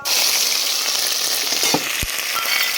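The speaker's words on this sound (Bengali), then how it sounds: "তেলটা গরম হয়ে গেছে, এবার চিংড়ি মাছটা দিয়ে দেবো।" Shrimp fry in hot oil, making a bright, dense sizzle that holds loud and close for the whole stretch, with a couple of brief clinks or pops near the end and no talking.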